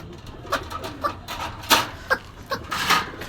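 Pigeons at a pigeon market in Gollamari, Khulna, including Rajshahi Giribaj pigeons, giving several short coos and wingy bird calls nearby in an irregular rhythm over low crowd background.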